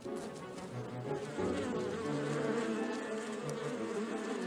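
Honeybees buzz steadily and densely through a waggle dance as a forager returns from a new nectar source, with a close, continuous swarm drone and no talking.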